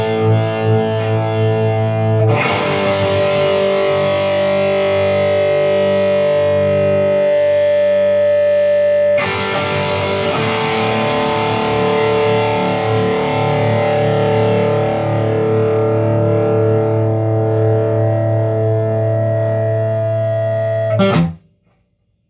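Electric guitar chords played through an Axe FX III amp modeler into a solid-state amp in a room, two sustained distorted strums ringing out with a swelling bloom, loud and close, then cut off abruptly.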